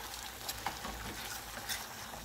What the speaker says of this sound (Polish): trochę podsmażył się nam ten sos i zgęstniał